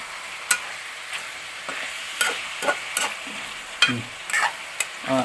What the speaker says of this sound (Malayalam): ഇനി നമുക്ക് നന്നായിട്ട് ഇളക്കിക്കുക